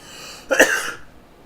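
A single short cough, close and fairly loud, rising abruptly and fading within about half a second against quiet room tone.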